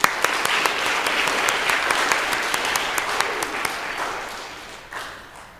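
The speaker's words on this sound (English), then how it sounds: "Let's give our spellers a round of applause." A school audience at a spelling bee gives the spellers a round of applause, dense clapping from many hands with a few sharper claps standing out, holding steady then tapering off.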